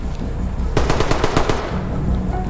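Rapid automatic gunfire in the tactical shooter game Ready or Not, a loud burst of about ten quick shots over a steady background hum, then the firing stops.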